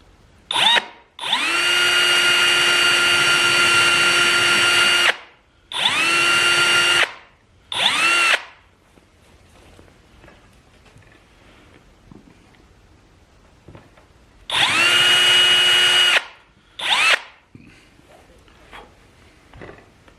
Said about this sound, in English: let's go ahead and drill those holes first